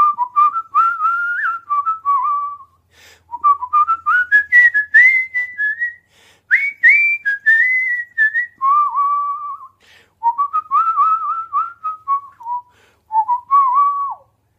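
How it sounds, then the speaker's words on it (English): A person whistles a melodic tune alone, in clear phrases separated by short pauses, close and loud with sliding pitches. "If they're videos with like traditional whistling"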